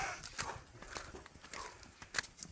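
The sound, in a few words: horse hooves clip-clopping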